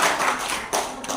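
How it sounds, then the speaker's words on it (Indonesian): A crowd applauds at a storytelling workshop, a steady wash of many hands clapping close and loud for the full stretch, with a brief surge partway through and no voices over it. "tepuk tangan sekali lagi buat"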